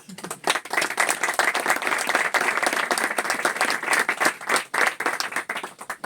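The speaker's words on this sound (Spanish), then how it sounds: "un aplauso para todos los bodegueros" Sustained audience applause for the winemakers of Soria at a wine event, dense crowd clapping that swells and holds for several seconds with a few sharper claps standing out.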